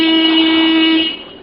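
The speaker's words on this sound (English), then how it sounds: "I always honk the horn when I'm in the neighborhood." A single loud, steady car horn honk held for about a second, then fading out quickly.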